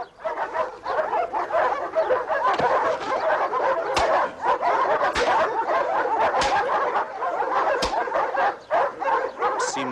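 A dog being trained as an attack dog barks and yips almost nonstop, loud and close, in rapid overlapping bursts with a few sharper yelps over about ten seconds.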